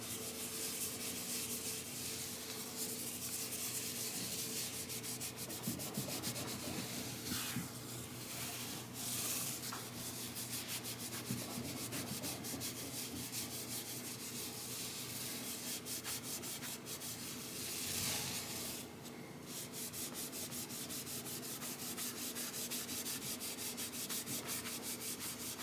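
A rag rubs linseed oil into the freshly leveled and scraped fretboard of an Epiphone Les Paul Studio guitar, giving a steady close soft scrubbing and wiping sound with brief louder strokes, no voices.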